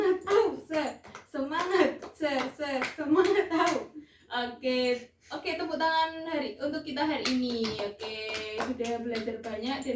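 Children in a primary school classroom chant a rhythmic call-and-response cheer, punctuated by sharp bursts of hand claps between the sung phrases, with an adult voice leading.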